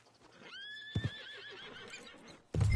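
A horse in the video game Red Dead Redemption 2 lets out one clear, loud whinny with a rising then wavering pitch. A couple of hoof thuds follow, and a heavy low rumble comes in at the end.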